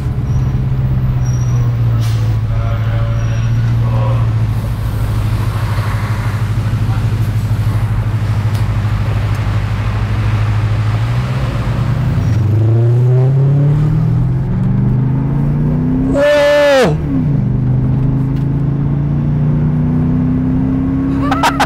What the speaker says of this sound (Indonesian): Itu kita di 2500 RPM aja tuh suaranya tuh udah kayak mesin RPM tinggi ya